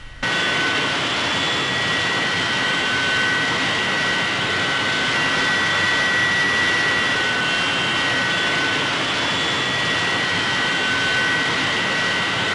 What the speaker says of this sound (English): ignition is activated, followed by fuel flow into the combustion chamber, and the engine normally starts immediately